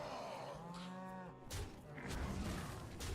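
A cow in Hearthstone gives one long, drawn-out moo, followed by a burst of crashing game effects that carries on to the end.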